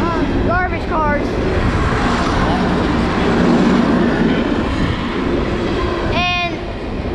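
A long freight train of garbage cars rolls steadily past a station platform at Halethorpe, Maryland, with loud, continuous, close rumbling and rattling throughout, and brief voice-like calls rising over the noise near the start and end.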